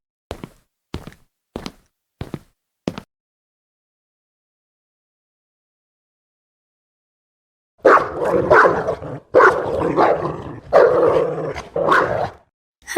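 A dog barks five times in a steady rhythm, sharp and close, and then a loud, emotional voice speaks at length after a pause of silence.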